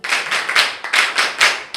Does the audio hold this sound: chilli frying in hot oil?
no